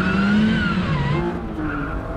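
Mazda Miata race cars lapping a circuit, a green Miata among them, with engines droning loudly and tires squealing and skidding through a corner, the pitch sliding continuously over two seconds.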